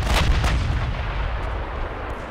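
Battleship salvos of armor-piercing shells firing in the naval game Ultimate Admiral Dreadnoughts, a WW2 battle between Nelson and Littorio; two deep booming gun blasts close together, followed by a rumbling decay without speech.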